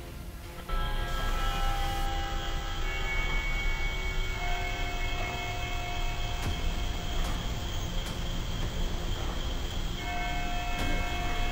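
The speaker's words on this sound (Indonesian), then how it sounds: "Suara lonceng." Bells ring out over a steady rumbling background, with sustained ringing tones and a few sharp strikes, moderately loud and continuous throughout.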